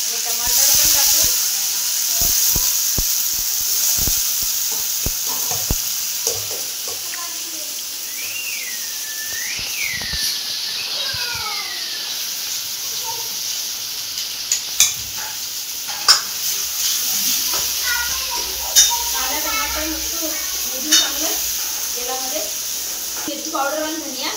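Onion, green chili and tomato fry in hot oil with cumin and garlic for a khichdi tadka, a continuous crackling sizzle with repeated stirring taps, and voices drift in at times.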